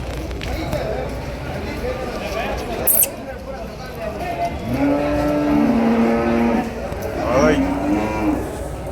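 At a crowded cattle market in Vaniyambadi, cattle moo loudly with long, rising calls over a constant bustle of crowd noise, and people talk nearby.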